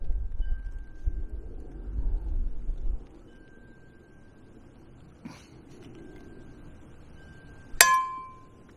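Metal clinks and snaps as a hand rivet nut tool sets a rivet nut into thin sheet metal, with low rustling handling noise, a brief knock midway and one sharp loud clink near the end.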